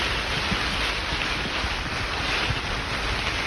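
Wind blows steadily on a windy day outside a greenhouse, a continuous broadband rush with gusty buffeting on the microphone and no pauses or voices throughout.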